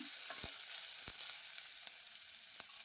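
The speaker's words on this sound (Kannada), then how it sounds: "ಈರುಳ್ಳಿನ ಎಣ್ಣೆಯಲ್ಲಿ ಫ್ರೈ ಮಾಡಬೇಕು ನೋಡಿ ಈ ರೀತಿ ಫ್ರೈ ಮಾಡ್ಕೋಬೇಕು" Onions fry in hot oil, giving a faint, continuous crackling sizzle with a few sharp clicks from a spatula scraping the pan.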